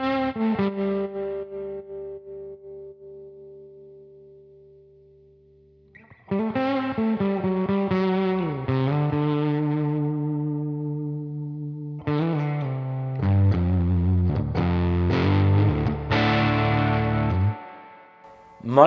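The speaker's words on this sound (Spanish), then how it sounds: "Vamos a poner el lead y le vamos a poner el booster," Electric guitar lead tone with a booster pedal emulation through a Universal Audio amp plugin, distorted and echoing, opening with a held chord and then moving into busy melodic lines and bends with no talking.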